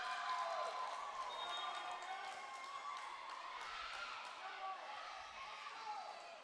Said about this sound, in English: You can hear the crowd as they are fired up.